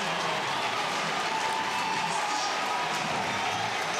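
College lacrosse crowd at a Virginia vs Notre Dame game roaring and applauding after a goal: a dense, steady wash of cheering, heard from a distance.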